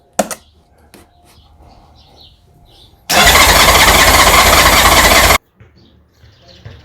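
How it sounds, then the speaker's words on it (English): A 1991 Honda Goldwing SE motorcycle engine cranks for about two seconds without firing, a loud, steady, dense starter whir that cuts off abruptly, framed by quiet shop noise and a few faint knocks. "Okay, so we crank the bike."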